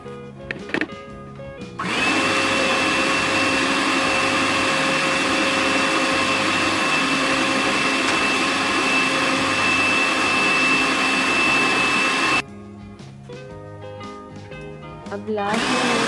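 An electric mixer whirs loudly through chocolate fudge cake batter, a steady high-pitched motor drone lasting about ten seconds before stopping abruptly, with quieter background sounds before and after.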